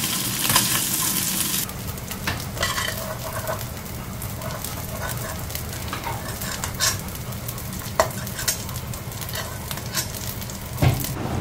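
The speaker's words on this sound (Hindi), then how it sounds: "आलू हल्का फ्राई हो गया है," Potatoes lightly frying in oil, with a steady sizzle and intermittent stirring clatters up close, and a dog barking faintly now and then in the background.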